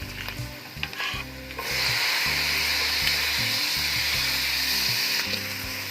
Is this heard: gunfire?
no